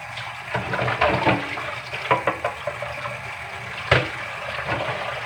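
Water runs steadily as something is rinsed before cleaning, a continuous close splashing flow with a few louder splashes and knocks.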